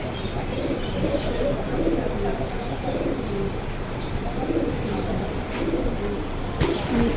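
White Lab pigeons at a bird market coo over and over in a soft, throaty way, mixed with a busy background hum and someone talking nearby.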